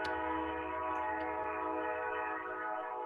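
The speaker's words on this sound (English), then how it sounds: "Can you hear the train?" Steady, continuous rumble of a passing train with sustained tonal horn-like bands, loud and unbroken throughout with no talk.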